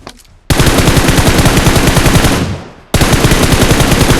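Loud automatic gunfire from the battle royale game PUBG, rapid continuous bursts that fade briefly near the end before another sustained burst resumes, with no talking.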